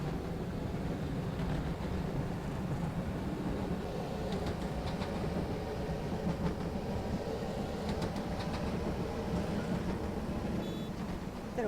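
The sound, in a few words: tram running on rails in OMSI 2 video game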